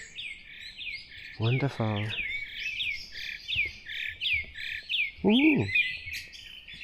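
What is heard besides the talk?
birds singing in a forest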